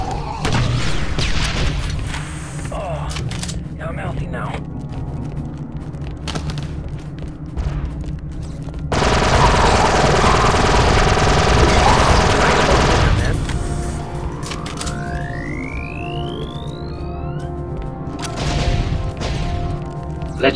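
A mounted turret gun in Star Wars Republic Commando fires in rapid repeated bursts with loud booming blasts, including one sustained heavy stretch in the middle, amid other battle noise and brief voices.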